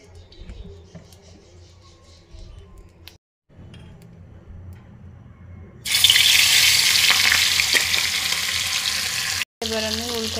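Puti fish fry in oil in a wok: quiet kitchen rustling and handling give way to a sudden loud, dense sizzle that roars steadily for the last few seconds, briefly cut out once, close and without speech.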